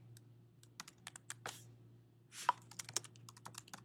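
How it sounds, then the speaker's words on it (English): Typing on a computer keyboard: a quick burst of crisp, irregular key clicks close up and quiet, with a few heavier taps, in a hushed room. "So I'm going to just type in a quick little bit of text."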